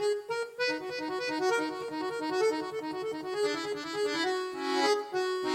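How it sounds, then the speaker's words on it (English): An accordion plays a quick, bright melody over reedy chords, the notes changing rapidly and evenly, close and clear with no voices. "It's an accordion."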